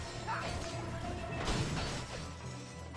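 Crate smashing open in the Ratchet and Clank Future: Tools of Destruction video game, a loud crunching break with a whooshing burst near the middle, set against steady game music and effects throughout.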